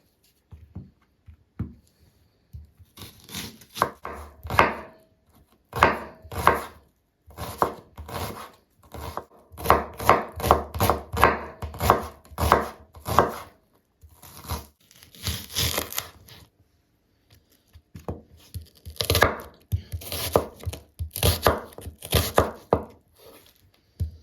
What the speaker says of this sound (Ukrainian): Для фаршу будемо нарізати дрібненько цибульку